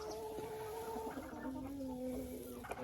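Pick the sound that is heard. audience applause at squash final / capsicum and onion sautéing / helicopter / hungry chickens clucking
hungry chickens clucking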